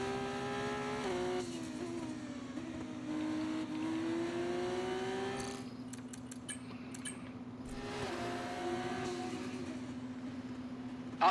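Formula car from F1 24 accelerating during an F2 career-mode feature race in Spain, its engine note climbing steadily through several gears with brief drops at each shift and a sustained tone underneath, close and continuous with no talk.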